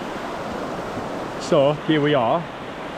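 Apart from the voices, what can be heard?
cold river stream flowing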